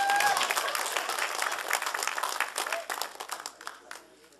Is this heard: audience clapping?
yes